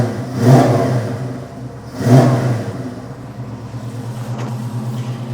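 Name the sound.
Mustang V8 engine starting and revving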